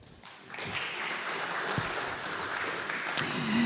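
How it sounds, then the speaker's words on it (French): An audience at a conference session on food sovereignty in French overseas territories applauds. The clapping is moderate and fairly quiet, beginning after a brief pause and continuing steadily, with one sharp click near the end. "On vous applaudit tous les deux."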